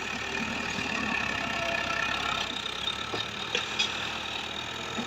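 A Fiat 640 tractor engine runs steadily at a moderate distance while pulling a cotton planter, a low continuous rumble with a couple of brief clanks near the end.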